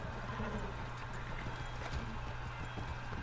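Horse in the video game Red Dead Redemption 2, hooves clip-clopping steadily with occasional snorting amid a dense rushing background, moderately loud throughout.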